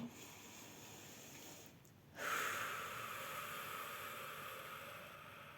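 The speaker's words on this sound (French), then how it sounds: "prenez une grande respiration" A single deep breath drawn in during a calming EFT tapping exercise: after a brief hush, a soft, airy inhale swells close to the microphone and eases into a long, steady rush of breath, with no talking.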